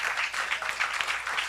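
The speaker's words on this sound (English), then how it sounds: "round of applause for everybody" Audience applause at a school board meeting, a steady wash of many hands clapping at moderate loudness with no clear pauses, ongoing throughout.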